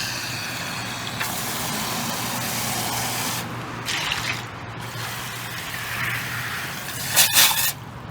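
Garden hose spraying water to rinse out a barrel outdoors, a steady broadband hiss running the whole time with brief louder bursts where the spray shifts, and a low hum underneath.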